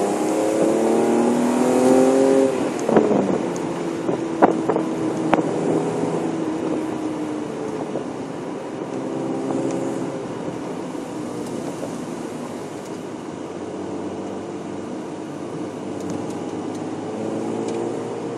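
A BMW M3 E36 driving on winding country roads, its engine droning steadily from inside the car with rises in revs and a few brief bumps.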